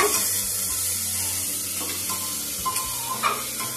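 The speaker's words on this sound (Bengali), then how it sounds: "পেঁয়াজটা একটু ভাজা ভাজা করে নেব।" Chopped onions fry in oil in a pan with a continuous close sizzle, punctuated by a few soft scrapes and taps of stirring, no voices.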